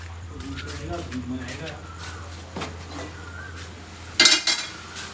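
Dishes clatter and clink in a short burst near the end, following quiet kitchen sounds while people talk close by.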